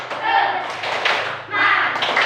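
A school class performing a rhythmic clap chant, a few bursts of group clapping and tapping mixed with children's and a teacher's voices chanting along.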